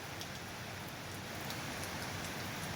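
Steady rain pouring without letup in Dait, a continuous soft hiss of drops on surfaces with faint patters, no voices.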